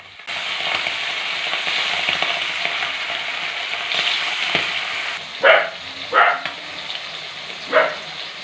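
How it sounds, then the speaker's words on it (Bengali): Kaikka fish fry in hot oil in a wok, giving a loud, continuous, close sizzle with dense crackling, followed by a few short bursts of spattering as the pieces are moved. "এখন মাছগুলো একে একে ভেজে নেব ভালো করে লাল লাল করে"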